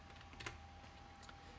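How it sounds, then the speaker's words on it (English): Typing on a computer keyboard, a few soft, quick key clicks close by over a faint steady hum, very quiet and brief. "by clicking anywhere in the composition window, we can start typing"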